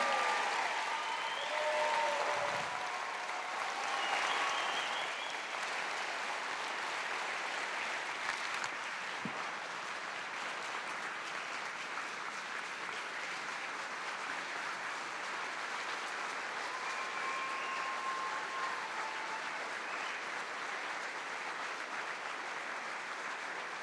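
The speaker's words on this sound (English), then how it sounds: "Can we give her a round of applause?" An audience at a keynote event applauds a woman in the room, giving sustained, even clapping from a big crowd that holds steady for over twenty seconds, with a few brief tones and thumps mixed in.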